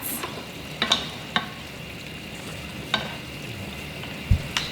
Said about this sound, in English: let me stir it up a bit